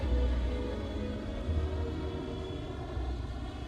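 Steady low engine roar of a Concorde airliner in a subsonic climb, heard from inside the cabin as a continuous even drone with faint tonal hum, no speech.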